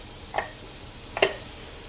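A spoon scrapes twice through jerk chicken simmering in a pot, seasoned with crushed red pepper and salt, each stroke a short, close clatter against a quiet background.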